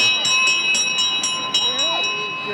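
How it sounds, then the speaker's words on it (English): An English bell rings repeatedly in steady, evenly spaced strokes, close and loud, with a voice speaking faintly underneath. "You'd like to ring the bell?"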